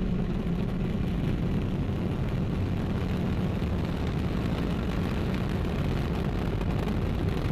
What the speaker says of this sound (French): Allumage EAP, décollage.